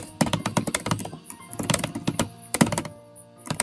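Rapid keystrokes on a computer keyboard while writing in Microsoft Word, coming in quick irregular bursts with short pauses, close and clear.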